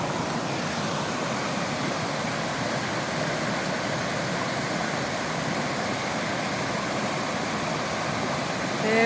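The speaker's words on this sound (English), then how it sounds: "Carter's Lake Waterfall." Carters Lake waterfall pours in a constant broadband rush, a steady roar of tumbling water heard up close with no change in level and no talk over it.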